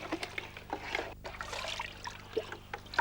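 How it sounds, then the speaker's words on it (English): Water trickling and dribbling off the edges of an upside-down jar, a soft, irregular splashing patter of small drops and streams, quiet and close throughout. "if they turn the jar upside down, the water falls off the edges"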